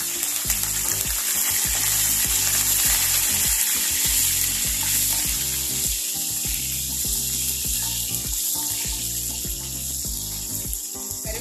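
Fenugreek, cumin, dried chillies, mustard seeds and curry leaves fry in hot oil in a pan, giving a steady close sizzle with rhythmic scraping and stirring clicks throughout.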